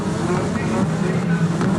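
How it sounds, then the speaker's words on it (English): Touring car engines revving on the starting grid at Sandown, front row of the 1988 Australian Touring Car Championship round 7, a steady dense drone of several cars close by with a commentator talking over it. "Drivers bringing the revs up in the cars for the front row."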